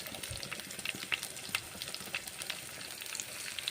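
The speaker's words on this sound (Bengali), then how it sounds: "উপকরণগুলো একসঙ্গে ভেজে নিচ্ছি" Garlic and kohlrabi leaves frying together in a wok, a soft steady sizzle with occasional crackles and the scrape of a stirring spoon, fairly quiet and with no talking.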